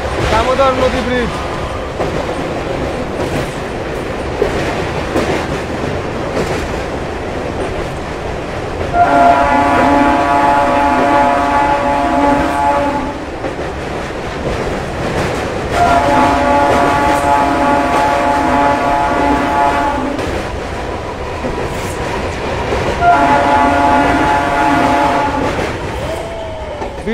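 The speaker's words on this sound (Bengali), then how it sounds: "দামোদর রেল ব্রিজ পার করলাম আমরা" A Howrah MEMU passenger train rumbles across the Damodar river rail bridge near Bokra station, steady rolling clatter throughout with three long blasts of the horn repeating at regular intervals, loud and close, with some background voices.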